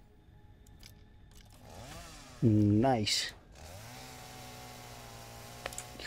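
A chainsaw in the video game Satisfactory revs in a short, loud burst lasting under a second, set against a steady game ambience hum, with someone talking briefly around it.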